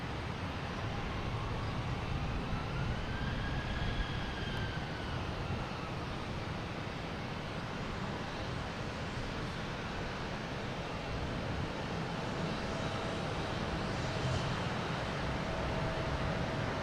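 A Porter Airlines airplane lands at Boston Logan Airport, heard as a faint, distant, steady engine roar mixed with broad wind-like wash that holds evenly throughout.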